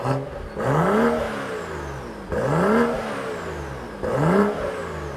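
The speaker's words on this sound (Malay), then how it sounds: "kalau exhaust M performance dia memang bunyi standard macam ni" A BMW F20 with a swapped N55 engine and stock M Performance exhaust revs three times in succession, each rise in pitch followed by a drop back to idle, with a throaty exhaust tone at moderate distance.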